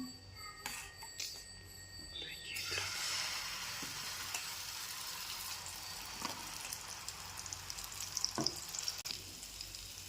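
Eggs for an omelette frying in a little oil in a pan for a bread omelette snack, giving a steady close sizzle that swells after a few seconds, with a few faint clicks and stirring knocks throughout.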